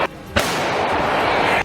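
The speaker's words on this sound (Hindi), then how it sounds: "रूस के सैनिकों ने दुश्मन के ठिकाने पर एक के बाद एक कई जोरदार धमाके किए।" A single sharp artillery blast from a Russian shelling attack hits, followed by a long, loud roaring rumble that sustains to the end of the clip.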